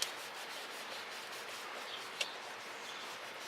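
Steady, quiet scrubbing of soot off titanium camp cookware: a continuous close-up rubbing and scraping texture with one brief sharper scrape partway through.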